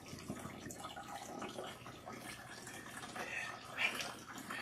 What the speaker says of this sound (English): Rinse out the shampoo until you see that the water is nice and clean.